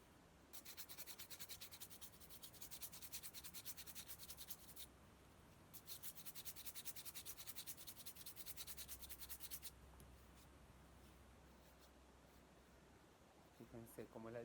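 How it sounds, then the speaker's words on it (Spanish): Rhythmic rasping strokes of sandpaper rubbing a pinched ceramic piece, in two bursts, then quieter scraping and a faint rumble. "Primero podemos pasar una lija un poquito más gruesa y después un poquito más fina"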